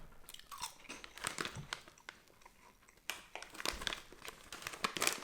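Plain crunchy caramel corn snacks from a small packet being eaten up close, with repeated crisp crunching bites and chewing in an irregular rhythm, quiet and without talk.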